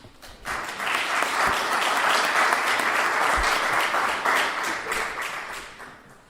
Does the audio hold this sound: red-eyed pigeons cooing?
no